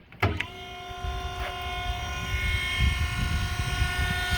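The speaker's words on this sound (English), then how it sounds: "Spindle is smooth and quiet." A DoAll DH-612 surface grinder's spindle starting on a push-button magnetic starter, a thump then a steady smooth electric hum with high tonal whine, running continuously and fairly close.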